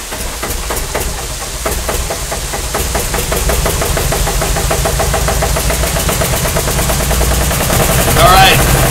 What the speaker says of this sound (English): the generator's really loud